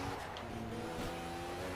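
Lotus 98T Formula One car from a racing video game on the Nürburgring, sliding with a steady engine drone and tire squeal, loud and continuous throughout.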